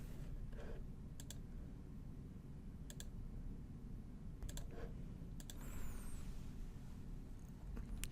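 Quiet, sparse computer keyboard clicks while typing Linux commands, a few scattered taps and a short burst, over a low steady hum.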